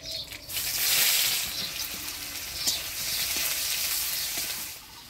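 Nigella seeds and chopped onion fry in hot oil with a steady, loud sizzle that runs throughout, broken by a few faint stirring knocks.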